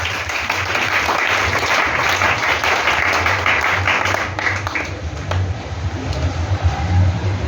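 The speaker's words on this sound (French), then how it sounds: "Acclamez Jésus pour vous-même" A church congregation applauds and cheers for Jesus, with dense, sustained clapping and crowd noise in a large hall. It eases slightly partway through, then carries on.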